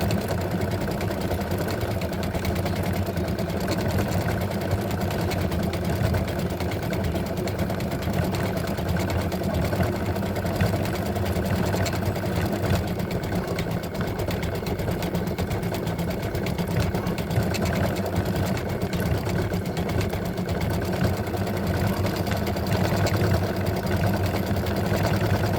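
An embroidery machine satin stitches the edge of a freestanding lace Halloween spider earring design, a fast, steady mechanical whirring hum that runs unbroken and alone throughout.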